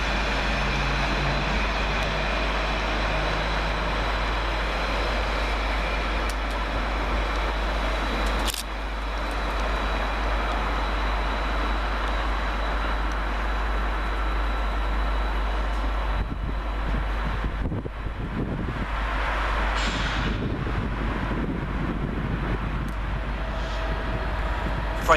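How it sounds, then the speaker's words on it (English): A Greater Anglia class 755 unit pulls into a busy station on a service from Ipswich, a continuous low rumble and hum of the train with some clanks and rising mechanical noise toward the end. "Arriving 24 minutes late with a service from Ipswich for Greater Anglia is 755329"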